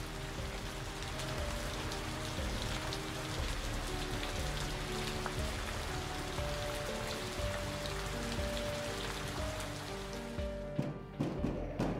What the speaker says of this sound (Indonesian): Di sekitar stasiun Klakah, turun hujan lebat